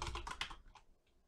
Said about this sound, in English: my typing is terrible today. I'm not used to this keyboard